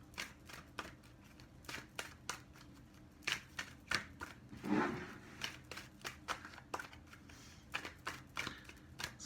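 Tarot cards being shuffled by hand: quick, crisp riffling snaps and soft slaps in irregular bursts, close and fairly quiet, with a short rustling flurry midway and no talking.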